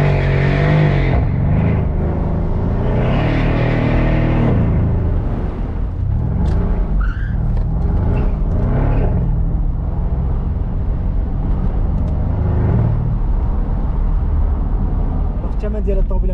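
A Mercedes SL63 AMG drives along, its engine a steady low rumble with a few swells of acceleration, heard from inside or close by while someone talks continuously over it.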